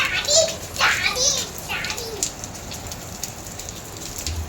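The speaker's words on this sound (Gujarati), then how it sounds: "કેટલો વરસાદ આવે છે" Heavy rain falling outside a home during the monsoon, a steady wash of noise under children's and adults' voices talking nearby.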